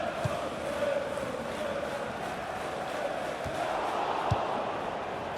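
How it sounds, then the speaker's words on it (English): Stadium crowd noise from a FIFA 17 Europa League knockout match with Tottenham Hotspur, a steady broad murmur of many voices filling the whole stretch, with a few sharp thuds standing out briefly. "the crowd are loving the drama that we're watching here"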